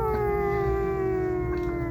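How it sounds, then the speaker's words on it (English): A dog or wolf howls in one long, steady, sustained tone with a slowly falling pitch, close and loud, with no talking over it. "was that howl a lot closer?"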